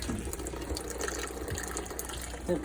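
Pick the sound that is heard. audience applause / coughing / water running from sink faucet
water running from sink faucet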